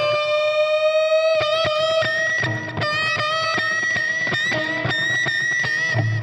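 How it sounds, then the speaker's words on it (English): Distorted electric guitar playing a solo, with sustained notes and squealing pinch harmonics ringing over a steady picked rhythm, loud and continuous. "this is where he throws in some pinch harmonics."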